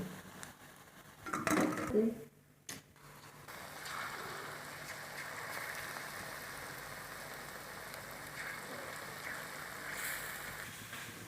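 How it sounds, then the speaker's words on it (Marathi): Pakoda fritters for kadhi pakoda drop into hot oil in a pan after a brief clatter of utensils, then settle into a soft, even, continuous sizzle that stays fairly quiet throughout. "आपलं तेल गरम झालेलं आहे, आता आपण भजे तळायला टाकून घेऊ।"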